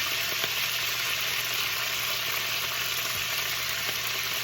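Wet spinach leaves sizzle in a hot pan, a steady close hiss and crackle of moisture hitting the heat that continues evenly for the whole stretch, with no voices.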